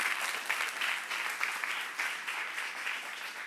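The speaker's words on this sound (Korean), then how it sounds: "박수 한번 해주세요." A congregation claps together during a church service, a steady, fairly faint burst of applause lasting a few seconds with no talking over it.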